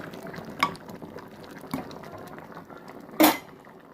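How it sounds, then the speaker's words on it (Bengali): A spoon stirs kewra dal in a pot, striking the metal rim with a few sharp, isolated clinks between quieter scraping and faint bubbling. "দিয়ে ভালোভাবে নেড়ে দেবো।"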